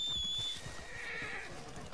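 A horse gives a brief, high whinny near the start, followed by lower snorting and shuffling nearby in an outdoor hunting setting.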